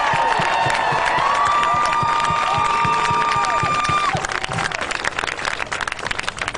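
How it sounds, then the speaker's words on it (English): A crowd at a Black Lives Matter march cheering and applauding with scattered claps, whistles and a long rising tone over the noise, thinning toward the end. "Let's give Danielle a round of applause one more time."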